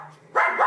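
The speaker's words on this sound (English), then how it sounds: "Guard dog." A single short dog bark, a quick close yap after a brief quiet moment.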